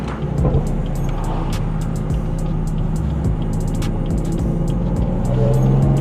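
A BMW M4 fitted with an aftermarket downpipe accelerates hard from inside the cabin, engine roaring loud and close with a rising tone and rapid crackling pops and bursts from the exhaust throughout.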